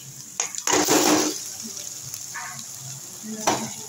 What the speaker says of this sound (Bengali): আদা রসুন লঙ্কা সব একটু ভাজা হয়ে গেছে, এবার আমি চিকেনটা দিয়ে দিচ্ছি।